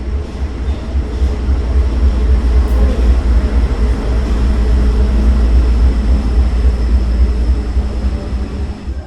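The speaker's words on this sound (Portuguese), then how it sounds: "Vou parar um pouquinho, trem passando." A train rumbles past nearby with a steady, loud, broadband roar that holds for the whole stretch, without talk over it.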